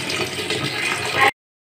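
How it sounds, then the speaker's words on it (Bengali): Cut cauliflower pieces washed under running water, a steady close rush of splashing water that cuts off abruptly after about a second, with no speech. "তারপর আপনি ধুয়ে নিচ্ছেন, ভালো করে ধুয়ে নিলাম"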